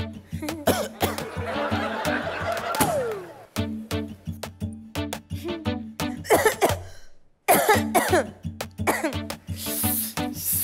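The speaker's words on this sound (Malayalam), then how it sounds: "നല്ല ചുമയാണെങ്കിൽ വല്ല ടോണിക്ക എന്തെങ്കിലും മേടിച്ച് കഴിക്കണം" Repeated loud, close coughing comes in rough bursts, mixed with throaty laughter-like sounds and brief pauses on a comedy stage.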